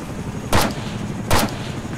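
Two loud, sharp gunshots ring out in ARMA 3, spaced almost a second apart, each a close, cracking report with a short decay against a steady low background rumble.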